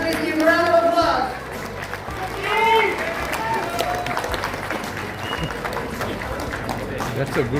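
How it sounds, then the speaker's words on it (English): Applause and crowd noise at the opening ceremony of a teachers' convention, clapping spread through a large hall with voices and chatter mixed in. "Ladies and gentlemen, please give a round of applause."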